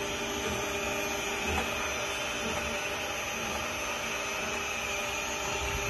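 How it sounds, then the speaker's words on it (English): A 5-litre stainless steel SS304 sigma mixer with screw extrusion discharge runs at maximum blade and screw speed, giving a loud, steady, continuous mechanical whir and drone with no pauses. "this is the max sigma blade shaft speed, and this is the max"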